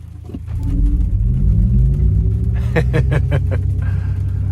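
2024 GMC Hummer EV SUV Edition 1 driving on a busy road, a loud deep continuous rumble with a rising whine, heard from inside the cabin, and a few quick knocks partway through.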